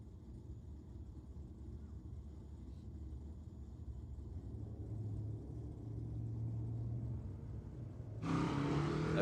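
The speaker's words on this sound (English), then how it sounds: "we've got Joe in the Skyline running naturally aspirated at the moment up against the Falcon" Skyline running naturally aspirated and a 6.2 litre LS-powered Falcon at a Sydney drag strip: a steady low engine rumble builds for several seconds, then a sudden loud, harsh burst of engine roar cuts in near the end.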